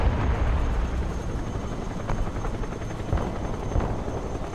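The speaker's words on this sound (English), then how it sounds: "Cargo helicopter approaching the DZ." In the video game Broken Arrow, a cargo helicopter approaches the drop zone with a dense, continuous rotor and engine roar that holds steady and loud throughout, with no voices over it.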